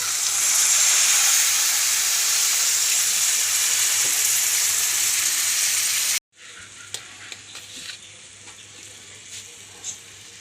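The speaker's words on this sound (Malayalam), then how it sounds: "വേവാനുള്ള വെള്ളം ഒഴിച്ച് കൊടുക്കാം" A loud hiss of water hitting a hot pan of tapioca fills the first six seconds, then cuts off and gives way to a quieter simmering sizzle with faint clicks.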